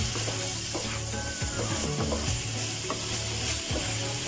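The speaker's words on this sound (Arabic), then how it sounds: "وابدا بقى كده في تقليبه حلوه للكبده" Alexandrian-style liver fries in a pan while being stirred, a constant close sizzle with scraping utensil strokes and clinks against the pan.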